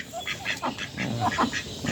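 Several ducks quack in short bursts close by, their calls overlapping in a busy flock with a little background noise.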